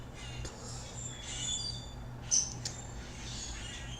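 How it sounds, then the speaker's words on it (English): Faint birds call in the distance early in the morning over a low background hum, with a few short chirps and one sharper squawk midway, no talking. "all of these birds are making all this noise"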